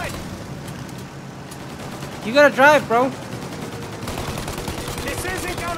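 Rapid bursts of gunfire aimed at a plane's engines in the video game Mafia, with a few louder shots mixed into steady shooting. Voices talk and shout over it.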